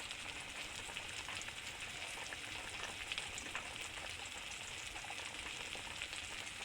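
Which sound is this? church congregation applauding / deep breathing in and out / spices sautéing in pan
spices sautéing in pan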